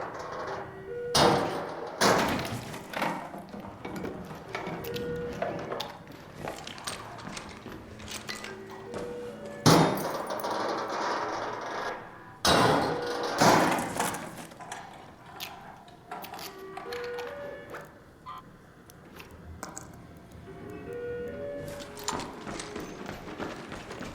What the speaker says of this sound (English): Right now we got to pop all this stuff open.